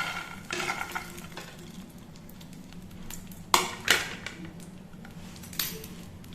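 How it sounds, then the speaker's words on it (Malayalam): A homemade cerelac mix is stir-fried in ghee in a pan, giving a low continuous sizzle. Sharp spoon scrapes and clinks against the pan cut in now and then. "നന്നായിട്ട് വഴറ്റി കൊടുക്കാം."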